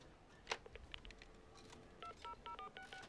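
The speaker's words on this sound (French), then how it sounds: "Parfait, je lui téléphone." A telephone number is dialed as a quick series of distinct keypad tones, about eight beeps in an even rhythm, near and clear over a quiet room background, with a soft click before them.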